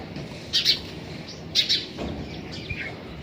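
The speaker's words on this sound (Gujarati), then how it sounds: "સવારના પોરમાં આ ચકલી હમણાં પાણી પીવા આવી ગઈ છે" A sparrow chirps in the morning as it comes to drink water, with two short bursts of bright chirping close by over a steady outdoor background.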